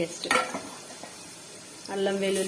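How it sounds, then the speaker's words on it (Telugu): Onions frying with curry leaves in a pan, heard as a soft sizzle with metal clinks and a spoon scraping the pan, a low humming tone rising near the end. "ఈ ఉల్లిగడ్డ కొంచెం ఎర్రగా అయ్యే వరకు పెట్టేద్దాం"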